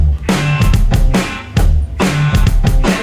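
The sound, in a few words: drum kit kick and snare rhythm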